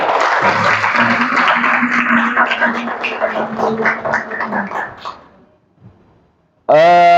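Short burst of classroom clapping in an Indonesian teacher-training session, close and fairly loud for about five seconds before fading out, with a few young voices mixed in and a sudden tonal sound at the end.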